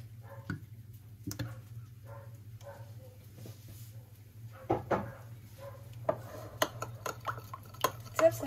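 Olive oil, honey and lemon juice dressing stirred together in a bowl, heard as sparse soft clinks and scrapes of a utensil that grow busier toward the end over a faint steady hum.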